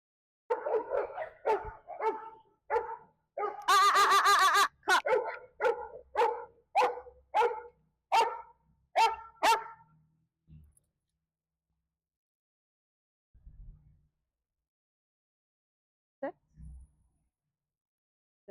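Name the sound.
Goldendoodle dog barking while playing at dog park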